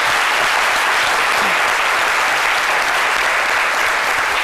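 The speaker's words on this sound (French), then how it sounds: "On peut les applaudir." A studio audience at a French midday TV show applauds with steady, dense clapping, loud and close, holding at an even level throughout with no talk over it.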